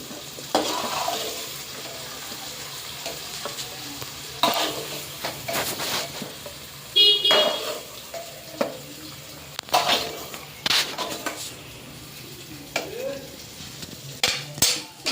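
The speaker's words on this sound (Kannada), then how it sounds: "ಆನಿಯನ್ ಹಾಕ್ಬಿಟ್ಟು ಸ್ವಲ್ಪ ಫ್ರೈ ಮಾಡಿ ಅದೇ ಎಣ್ಣೆಗೆ ಫ್ರೈ ಮಾಡ್ಕೊತೀವಿ" Onions frying in leftover oil in a pan, a steady low sizzle with intermittent stirring scrapes and clinks, close and alone without talk.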